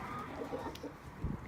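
Backyard chickens cluck faintly in a short burst on a hot, windy day, soft and close with low rustling underneath.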